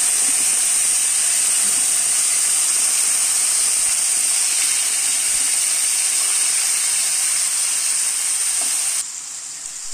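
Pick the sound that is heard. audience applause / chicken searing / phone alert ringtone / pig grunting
chicken searing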